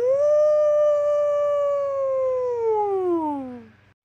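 A voice imitates a whale call: one long, loud, sustained tonal hoot that holds steady and then slides downward in pitch before fading out, alone and close.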